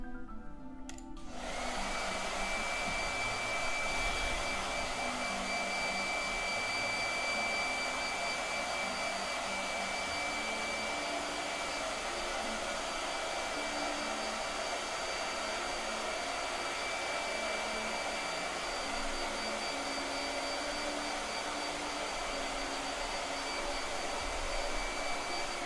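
A blow dryer drying paint on a painted figure runs in one steady, loud, continuous whoosh that stays close and unbroken throughout.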